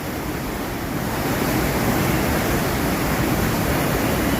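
Loud, steady roar of rushing floodwater at a riverside, a dense continuous wash of noise close by with no breaks or voices.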